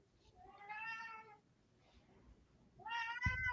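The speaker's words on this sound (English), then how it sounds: "Not my cat this time." Cat meowing twice, two drawn-out tonal meows separated by a pause, fairly quiet, with a soft thump under the second.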